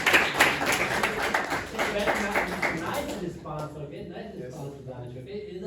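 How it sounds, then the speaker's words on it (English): A classroom of students breaking into a burst of clapping for a classmate, brisk and fairly close for about three seconds, then fading into scattered claps and murmuring voices. "Clap for Hamza."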